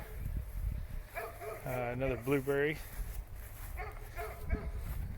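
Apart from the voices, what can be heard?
dog barking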